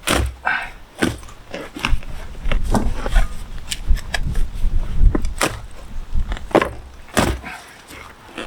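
A sharpened garden spade chops through the main roots of a pre-bonsai shrub being dug up in a garden, giving a series of close, sharp cutting thuds and scrapes at an irregular pace.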